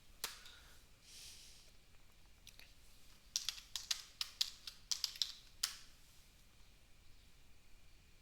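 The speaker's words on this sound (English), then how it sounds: "I had to retype it because I typed it wrong the first time." Typing on a computer keyboard at a desk while entering commands: a quiet run of distinct key clicks in quick irregular bursts, close to the microphone over a faint background hiss, with no talking.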